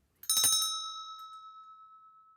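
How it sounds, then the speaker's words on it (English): A single bright bell strike, close and clear, with a ringing tone that slowly decays and wavers over about two seconds, alone. "Yep, also sounds like a bell."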